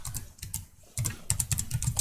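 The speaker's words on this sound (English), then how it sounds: "sorry for the sound of the clicks and the keyboard" Computer keyboard typing with mouse clicks at a desk, close and crisp, a quick irregular run of key taps that pauses briefly and then resumes in a faster burst.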